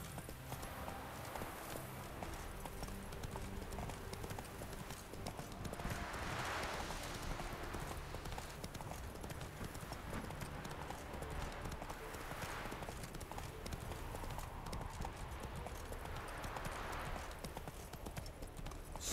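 Steady galloping hooves of a horse ridden in The Witcher 3: Wild Hunt, a fast continuous rhythmic clatter lasting the whole stretch, with soft swells of ambient game sound behind it.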